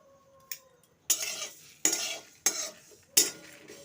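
Whole spices being dry-roasted in a hot wok for homemade pickle masala for a star fruit chaat, with four or five sharp, close scraping stirs against the pan, each a bright rattling burst over a quiet background.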